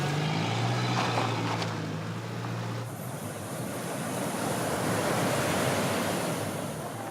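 Ocean surf rolls onto a beach near Accra in the evening, a steady, full wash of breaking waves with wind rushing across the microphone and no voices.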